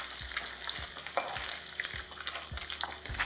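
Small mourola fish frying in oil over a high flame, a close, busy sizzle with sharp crackles and a few soft knocks of the pan, no voices.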